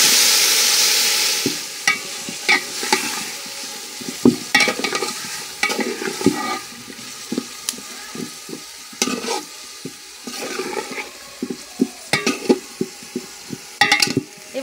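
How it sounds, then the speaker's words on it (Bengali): Marinated jackfruit goes into frying onions with mint and coriander leaves for kathal biryani. A loud sizzling burst at first gives way to steady frying, punctuated by repeated scraping stirs and clinks against the pot, with no talking. "এবার ম্যারিনেট করে রাখা এঁচড়টা দিয়ে দিচ্ছি।"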